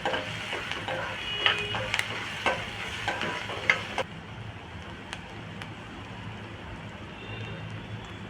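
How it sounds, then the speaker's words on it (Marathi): Chopped garlic and onion sauté in a pan for a Marathi mixed vegetable bhaji, giving a steady close sizzle with repeated spoon scrapes and taps through the first half, then a calmer continuous fry. "लसूण सुद्धा आपण परतून घेऊया कांदा"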